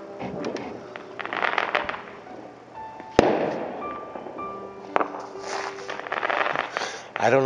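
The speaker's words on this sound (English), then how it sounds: "Albuquerque loves to celebrate with gunfire and fireworks, so I'm going to let you enjoy some of the sounds." Outdoor New Year celebration with fireworks and gunshots going off around the neighborhood: scattered sharp cracks and pops, one loud nearby bang, and crackling bursts at varying distances, with a voice speaking briefly.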